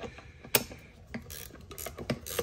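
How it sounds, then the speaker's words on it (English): A ratcheting wrench tightens brake caliper bolts on an S14, with quick close clicking and ticking pawl strokes in an uneven rhythm. "I'm going to use my ratcheting wrench."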